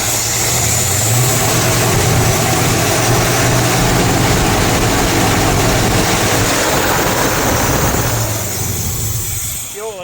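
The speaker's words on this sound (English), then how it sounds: "I need to adjust the idle up a little." Engine of a classic Chevy C10 truck with carburetor issues idling loudly up close, a steady rough rumble running nearly the whole time before easing slightly near the end.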